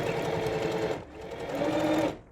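A sewing machine stitches a zigzag seam along a folded flap of a mermaid-tail tote bag, a close, loud whirring hum with rapid needle ticking in two bursts separated by a short pause.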